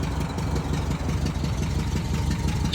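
Automatic-transmission Volkswagen bus engine idling steadily, a loud low rumble with a fine rapid pulse, continuous and alone.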